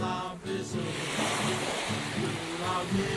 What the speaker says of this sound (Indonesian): suara deburan ombak